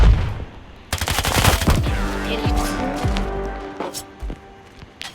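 Rapid bursts of video game gunfire crackle loudly, with sharp repeated shots and brief pauses between volleys.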